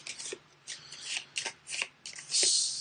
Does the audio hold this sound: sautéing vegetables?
no